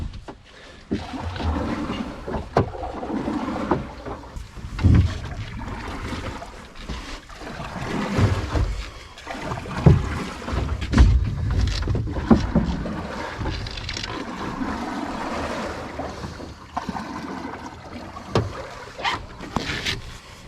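A canoe paddled along a shallow river on a calm, sunny day gives soft irregular splashes and knocks from strokes against the water, with gentle wind and hull thumps throughout.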